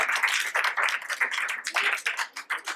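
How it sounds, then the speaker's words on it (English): A small group claps together at a community celebration program, a soft, quick patter of applause that stays fairly even throughout. "give yourselves a round of applause for making it up today."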